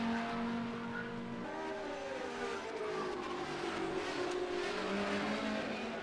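Race car in an endurance racing video game at Indianapolis, engine note dropping through downshifts, loud and continuous with no talk.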